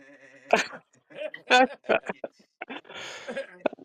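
A voice imitating a sheep's bleat, a wavering nasal baa mixed into lively, close conversational chatter and short vocal sounds among several people.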